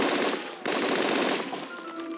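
Rapid automatic gunfire in a video game, a dense loud burst of shots lasting about two seconds with a brief break partway through, no voices.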